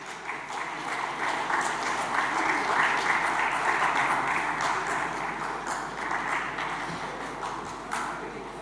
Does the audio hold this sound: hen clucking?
no